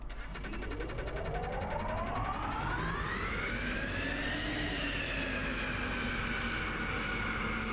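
A turbine-powered Burnside Special car in BeamNG.drive spools up, its high whining engine tone climbing steadily in pitch and then levelling off into a loud, sustained scream over a rumbling base.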